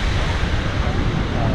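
Rainbow Falls, a waterfall of roughly 101 feet on the middle fork of the San Joaquin River, gives off a steady, dense broadband roar of falling water with no pauses or voices.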